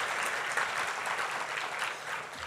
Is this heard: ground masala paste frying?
no